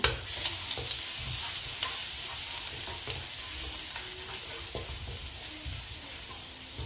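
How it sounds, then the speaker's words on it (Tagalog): Garlic fries in hot oil with a dense, continuous crackling sizzle and occasional light clicks of a utensil against the pan, close and steady throughout. "mainit na po yung ating mantika at ilalagay ko na ang garlic"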